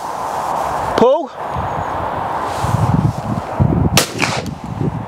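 Shotgun fire at a clay target: two sharp, loud reports about three seconds apart over steady outdoor background noise.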